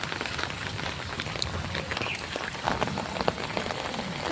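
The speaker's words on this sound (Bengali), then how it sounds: "অনেক বৃষ্টি হচ্ছে" Heavy rain pours onto a paved road in a dense, steady hiss of countless drops, close and unbroken, with no voices.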